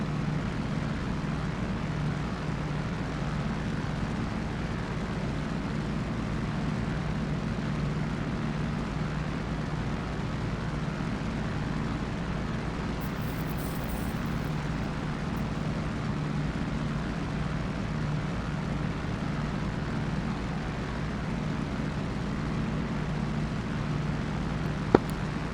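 A steady, droning piston engine hum from an F4U-1D Corsair cruising in flight in DCS, constant and unbroken, with a faint click near the end.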